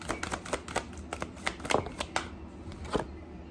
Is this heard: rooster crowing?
no